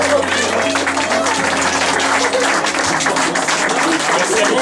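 A crowd at a forum gathering, Rasso CSGT 2016, claps loudly and continuously, a dense even roar of hands with steady sustained tones running underneath.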